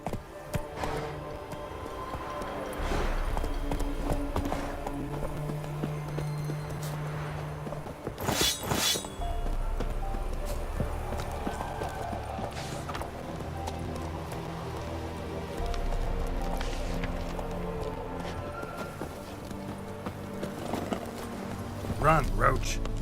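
Hooves of Roach the horse clip-clop and gallop through the game world of The Witcher 3, a steady rhythmic pounding under ambient rain and occasional spoken lines.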